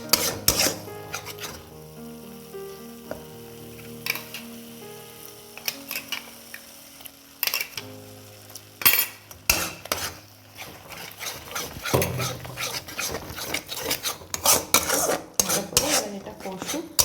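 Spice paste for a mutton curry, cooked down in mutton stock, fries in a pan while a spoon scrapes and clinks against the metal in irregular bursts over a low, soft sizzle.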